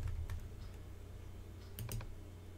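Someone types a few quick keystrokes on a computer keyboard: faint, close clicks in two small clusters against a quiet room.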